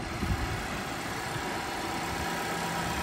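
A steady, smooth Lexus RX 500h hybrid engine idle with a faint even whir, close by, with some wind noise and no voices.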